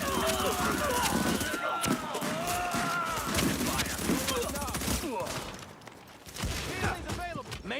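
Bursts of gunfire and rapid volleys crackle through a firefight in the shooter game The Division, mixed with game voices and a player talking over the shots.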